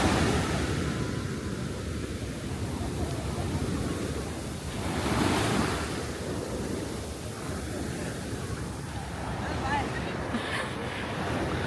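Surf washes onto a Kerala beach with green-tinged water, a steady broadband roar with a gentle swell near the middle, wind buffeting the microphone throughout and voices talking faintly over it.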